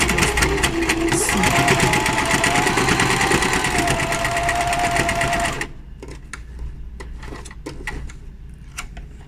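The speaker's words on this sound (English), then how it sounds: "So I'm just gonna stitch all around it, and that way I'm gonna top stitch." A sewing machine runs steadily as it top stitches around the edge of a fabric cord wrap, then stops partway through, leaving quiet handling clicks and rustling.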